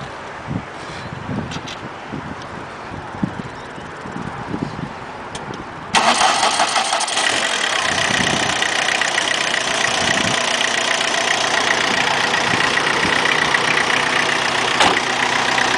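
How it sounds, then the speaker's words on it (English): A high-mileage car engine cranks and catches after a few seconds, then settles into a loud, steady idle that runs slightly rough. "Go ahead and start it up, and you can hear it run."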